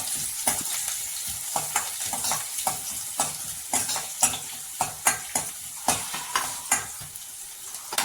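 Four garlic cloves sauté in hot oil for potato masala, a steady close sizzle broken by regular scraping strokes of a spoon stirring the pan, alone without talk.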